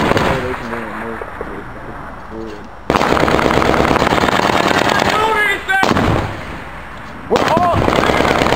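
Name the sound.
mortar fire, fire for effect, Afghanistan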